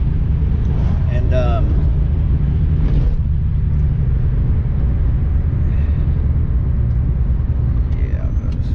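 Steady low road rumble from inside a moving BMW E36 that had sat unused since December, a continuous drone with someone briefly talking over it.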